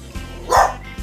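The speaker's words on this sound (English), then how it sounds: "I don't know why the dog decides to bark as soon as I start recording." A household dog barks once, a sharp single bow-wow close by in a kitchen where apple fritters are being made, set against a quiet room.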